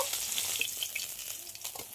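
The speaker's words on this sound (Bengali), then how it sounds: "এবার মাছটা একটু ভালো করে কড়া করে ভেজে নেব।" Folui fish frying in hot oil, giving a steady, close crackling sizzle with small popping bursts and some stirring for a couple of seconds.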